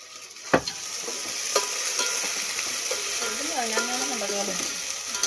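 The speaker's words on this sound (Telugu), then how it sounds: "అల్లం వెల్లుల్లి పేస్ట్ పచ్చి వాసన పోయేంత వరకు అయితే ఫ్రై చేసుకున్నాము" Ginger garlic paste sizzles steadily in a hot pan, a dense continuous crackle with a few sharp clicks and brief utensil knocks, close and fairly loud throughout.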